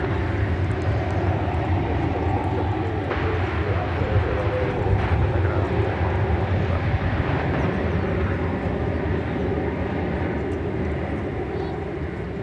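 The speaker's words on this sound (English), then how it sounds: "American 2810 off to the city adjacent to the bay, San Francisco, an Airbus A321. He is on a roll." An American Airlines Airbus A321 rolls down the runway for takeoff at DFW Airport, its jet engines giving a broad, steady roar heard from a distance, with brief clicks and faint background noise.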